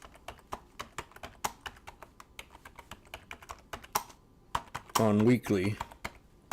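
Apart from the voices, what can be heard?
typing on a computer keyboard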